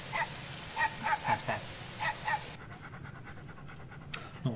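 A dog pants in quick, rhythmic bursts close by for a couple of seconds, then the breathing drops away and only soft background noise is left.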